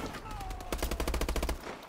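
Sniper rifle fire in the shooter game Call of Duty: Advanced Warfare, a short burst of rapid sharp cracks in quick rhythm, loud and close, followed by a fading tail.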